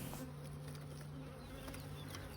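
Honey bees swarming around a hive during a hive split, a steady close buzzing drone with individual bees passing near, continuous and moderately loud with no talking.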